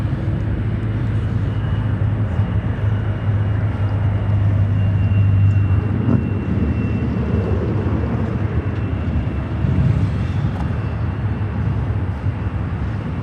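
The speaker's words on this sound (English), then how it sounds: "This inbound is United 787-10 Dreamliner, coming from Rome, Fiumicino" United Boeing 787-10 Dreamliner inbound at Chicago O'Hare, a broad, steady jet roar that holds evenly at a distance for over ten seconds, no talking.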